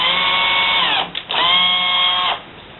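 A cordless drill with its clutch set very low runs threads onto suspension-link rod ends held in a vise: a close, steady whine that dips and stops briefly, then runs again before cutting off.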